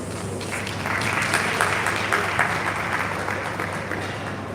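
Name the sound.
applause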